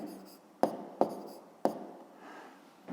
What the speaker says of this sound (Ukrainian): Давайте тут збоку пишемо.